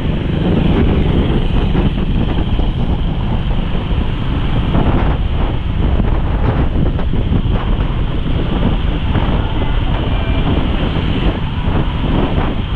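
Strong wind blows across the beach at Quy Nhon, Vietnam, on a cold day: a loud, continuous roar of gusts buffeting the microphone, with a rushing wash of surf mixed underneath and no talking.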